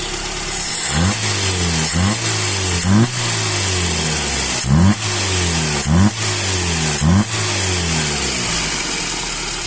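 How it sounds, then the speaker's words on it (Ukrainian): A Mercedes-Benz W124 engine with a freshly adjusted Solex carburetor, not yet at operating temperature, runs steadily and is revved repeatedly, about nine sharp rising blips over a loud, close idle. "машина не запускалася три тижні, запустилась легко"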